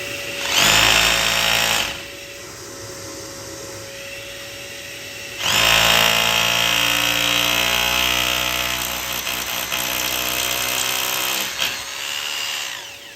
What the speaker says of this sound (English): I'm going to use my SDS hammer drill to see if I can get through this a little bit faster now